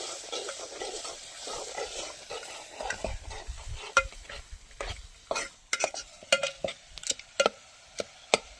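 Onions frying in a pan for a village-style kantola sabji are stirred with a utensil, a steady sizzle broken by a series of sharp scraping and tapping strokes that grow more frequent toward the end, with no talk.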